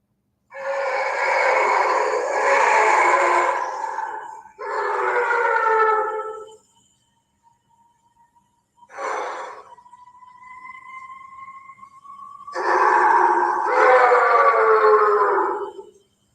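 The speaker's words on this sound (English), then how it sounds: "you can hear them all talking, like howling back and forth, like in the back" Several animals howl at night in a recording, long wavering tonal cries in bursts, some overlapping and rising, with a thin sustained tone between them and a quiet gap midway.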